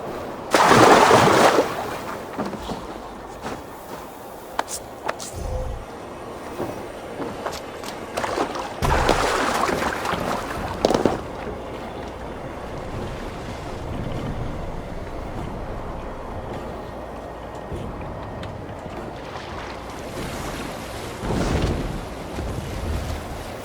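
A Viking ship sails a fjord in Assassin's Creed Valhalla, with a steady rush of wind and water running throughout and occasional louder surges and splashes, no voices heard.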